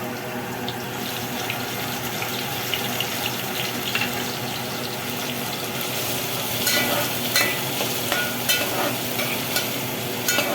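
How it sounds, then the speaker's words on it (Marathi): Onion and tomato go into hot oil in a pan while a Marathi chicken curry is prepared, giving a steady, dense sizzle with scattered crackles and pops, close and continuous with no voices. "आता इकडे मी तेल ठेवले, आता याच्यामध्ये कांदा टाकूया, टमाटे टाकूया"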